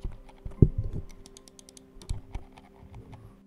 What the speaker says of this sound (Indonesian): Dan untuk scroll-nya dia pakai TTC encoder ya